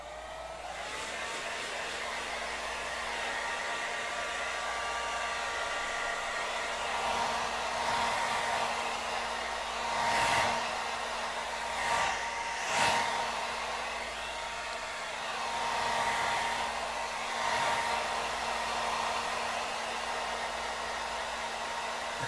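A hair dryer blows steadily to dry watered-down acrylic paint on a feral ghoul miniature, a continuous close whirring hum that swells slightly as it is moved, with no voices.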